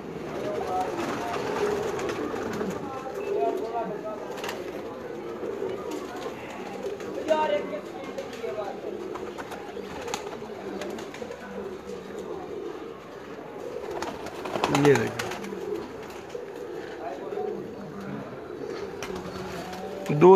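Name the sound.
pigeons cooing at a pigeon keeper's loft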